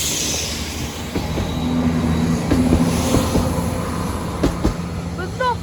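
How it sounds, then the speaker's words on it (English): A Class 172 train approaches the Sleaford West level crossing with a low rumble and some wheel noise that grow slightly louder, accompanied by faint squeals and background talk from people nearby. "The train's approaching, everybody."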